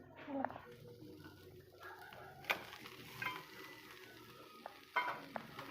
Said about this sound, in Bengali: তো ভাজাটা প্রায় হয়ে গেছে, এখন দিয়ে দিয়েছি মাছের মাথাগুলো